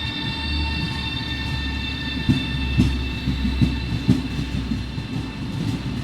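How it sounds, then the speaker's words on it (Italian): A Trenitalia regional train runs at Venezia Mestre station. A steady low rumble carries under a series of sharp rail clacks and knocks, with a constant high tone above. "Il treno regionale veloce di Trenitalia proveniente da Verona Porta Nuova e diretto a Venezia Santa Lucia delle ore 15:38 è in arrivo al binario 5"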